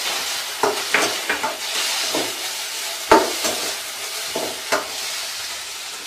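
Onions browned in a pan with tomatoes added, frying as part of making egg Maggi noodles; a steady close sizzle runs throughout, broken by short scraping stirs.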